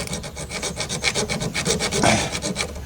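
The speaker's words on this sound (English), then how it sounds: "So I hacksaw a little bit" A hacksaw blade is worked in quick repeated strokes against the valve cover of a 2002 Toyota Camry, producing a steady close rasping rhythm of roughly seven strokes per second with no voices.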